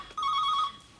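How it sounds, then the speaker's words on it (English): Telephone bell ringing in a home, one short electronic ring burst with a clear steady tone, fairly close, then fading, with no talk over it. "Your phone's ringing, dear."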